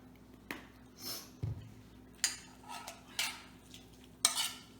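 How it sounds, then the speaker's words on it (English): Taco seasoning with paprika and sriracha is stirred in a pan, giving scattered spoon clinks and short scraping strokes against a quiet background. "Let's stir that up."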